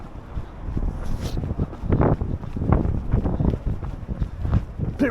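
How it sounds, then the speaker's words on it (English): Gusty wind buffets the microphone outdoors on a street, a loud uneven rumble that swells and eases over several seconds with no talking. "Bit windy down here."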